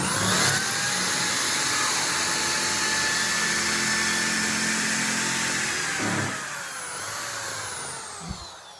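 Electric drill spinning a rod through a jig to form dowels, a continuous high motor whine with a strained grinding tone that holds for about six seconds, then eases off into a quieter, slowing run.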